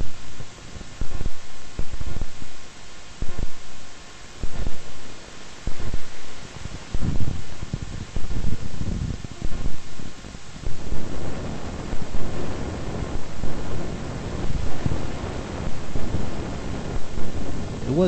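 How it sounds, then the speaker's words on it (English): Gusty wind buffets the microphone at an amusement park, a continuous broadband rush that swells and pulses in repeated gusts and grows heavier and steadier in the second half. "It was quite windy on that day"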